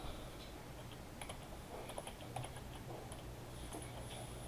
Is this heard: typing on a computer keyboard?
yes